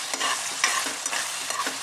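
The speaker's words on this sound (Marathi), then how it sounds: "म्हणून हे वाटण मी तेलामध्ये चांगलं परतून घेते." Ground masala paste frying in oil for a home-style Maharashtrian chicken rassa, a steady close sizzle with a few soft stirring scrapes, no talking.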